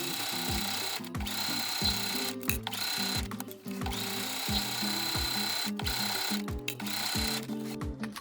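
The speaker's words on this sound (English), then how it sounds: "Now sew directly along all the lines you just drew." Sewing machine stitching quilting lines through layered fabric and rip material for a non-slip jar grip, running in quick rhythmic bursts with short pauses between runs, close and steady, no talk.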